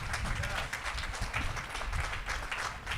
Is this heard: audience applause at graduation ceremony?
yes